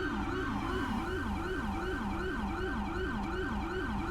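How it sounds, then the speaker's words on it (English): A police siren in a video game wails in quick repeating rising-and-falling sweeps, steady and continuous, heard at moderate volume. "That siren sounds so good."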